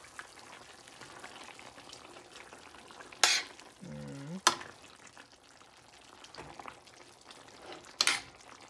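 Igado sizzles in a frying pan while being stirred, a quiet steady frying hiss with a few sharp scraping stirs of the utensil against the pan.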